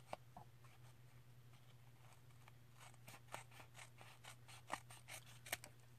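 Scissors trimming excess card from the edge of a junk journal tag, a series of small, quiet snips that grow more distinct toward the end, heard close over a steady low hum.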